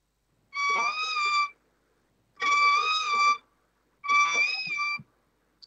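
Bird calls imitated on a violin by a Carnatic violinist: three separate bowed, wavering phrases, each about a second long, with short silent gaps between them, clear and close.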